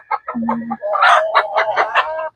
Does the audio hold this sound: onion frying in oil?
no